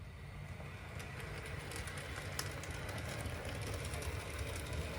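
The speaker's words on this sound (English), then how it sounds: "Next up was a Graham Farish Class 31" A Graham Farish Class 31 model locomotive runs on curved Setrack, giving a faint, steady motor whir with light rail clicks and rattle, continuous and close.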